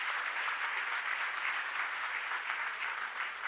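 Loud, sustained applause from an audience at a religious discourse gathering, a dense steady wash of clapping lasting throughout with no talk over it.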